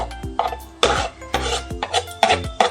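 Raw prawns dropped into a hot pan for a Bengali potol chingri dish, giving a run of short sizzling, scraping bursts against the pan, fairly close and irregular, with no talk.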